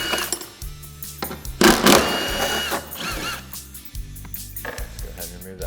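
A power driver whirs in several short bursts, close up, as it backs out T40 fasteners on the bed of a Polaris RZR Pro R, with clanks and rattles of hardware between the runs.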